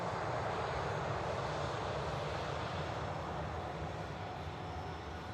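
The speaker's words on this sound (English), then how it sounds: "There's Tui Dreamliner on the roll, heading out to Bridgetown." TUI Boeing 787 Dreamliner on its takeoff roll, a broad steady roar of jet engines heard from a distance, constant and unbroken, without any voices.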